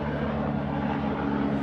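A helicopter passes overhead outdoors as a steady, droning engine and rotor hum, fairly loud and unchanging throughout with no talk.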